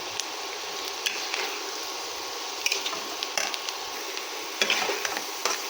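Chana dal and soybean fry with spices and salt in a pan, giving a steady close sizzle broken by a few louder scrapes and clicks from stirring; no one speaks.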